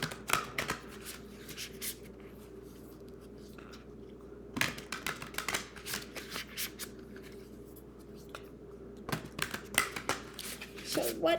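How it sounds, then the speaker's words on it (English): Playing cards being shuffled and riffled in several quick bursts, close by, with soft handling noises between them. "grab some cards, ruffle, shuffle"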